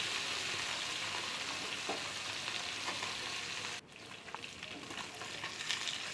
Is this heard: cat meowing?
no